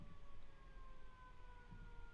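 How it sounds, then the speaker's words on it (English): An ambulance siren outside sounds as a very faint, steady wailing tone in the distance, drawn out over low background noise. "The ambulance is coming."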